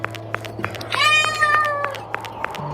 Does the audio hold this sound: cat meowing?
yes